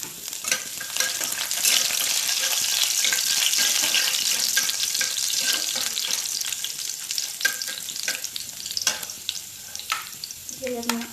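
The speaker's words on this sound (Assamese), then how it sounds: "এইখিনি অলপ ভাজি ল'ম।" Whole cumin seeds and garlic fry in hot oil in a wok, giving a dense, close, continuous sizzle and crackle throughout, with intermittent stirring taps and scrapes.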